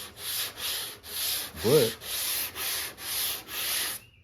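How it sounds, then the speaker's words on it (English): Sanding block rubbed by hand across a Ford Fox-body car's body panel during bodywork prep for paint: eight steady back-and-forth rasping strokes, close and fairly loud, with a single short spoken word partway through. "put my sanding block right here and sanding like this."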